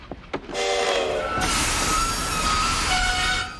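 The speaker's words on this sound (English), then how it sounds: "you've got to stop this train" A train runs on its rails in a loud, steady rumble with a squealing tone from the wheels, starting after a few brief clanks and carrying on loud and close to the end.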